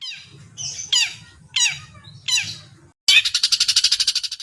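Burung papa, a long-tailed shrike of the Laniidae family, gives four harsh descending squawks in a row, then a rapid chattering series of buzzy notes, close and loud against a low background rumble.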